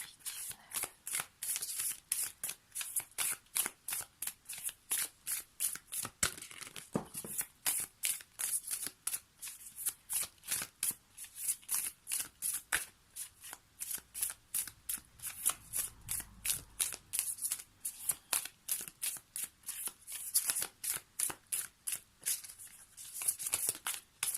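Tarot cards shuffled continuously for a reading, a steady run of crisp riffling and flicking strokes close by, alone without any voice.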